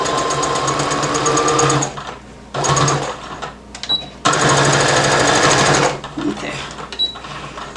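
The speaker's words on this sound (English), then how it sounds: "I stitched in the ditch on both sides" A sewing machine stitches in the ditch along a romper seam in loud, steady runs that stop and restart several times, with brief pauses between bursts and a short spoken word in one gap.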